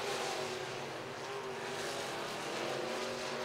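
Sport mod race cars roar around the RPM Speedway oval in a dense, continuous engine wash, heard at a distance and fairly faint, without voices.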